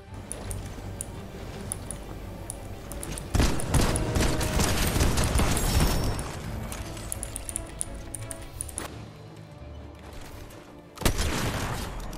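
Shotgun blasts ring out in the Fortnite video game: several loud, punchy shots spaced seconds apart over a busy background of game clatter and rapid gunfire.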